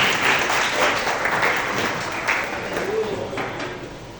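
A church congregation claps as people are asked to be seated during a service. The clapping is moderately loud and fairly steady, then tapers, and a voice may be faintly present underneath.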